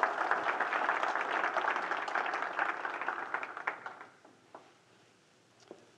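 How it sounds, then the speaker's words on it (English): An audience at a city's state-of-the-city address gives a dense round of applause that thins into scattered claps and fades to near silence. "So give yourselves a round of applause."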